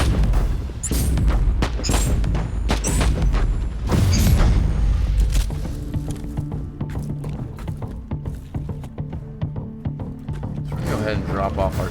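Shells fire in quick succession in Warhammer 40,000: Inquisitor – Martyr, a rapid string of heavy, punchy booms over several seconds that gives way to lower mechanical rumbling, with a voice talking throughout.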